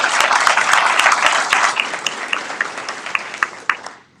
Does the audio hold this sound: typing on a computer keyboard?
no